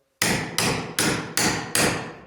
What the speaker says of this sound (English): I'm going to strike with my handle, not the face of the hammer